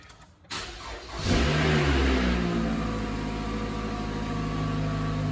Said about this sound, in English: Listen to the engine and the cranking.